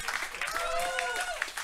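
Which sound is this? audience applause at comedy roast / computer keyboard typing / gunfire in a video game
audience applause at comedy roast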